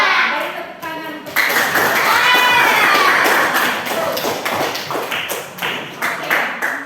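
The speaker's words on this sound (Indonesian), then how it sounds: "Beri tepuk tangan untuk" Students in a classroom clap together in a loud burst of applause that tapers into scattered claps, with children's voices mixed in underneath.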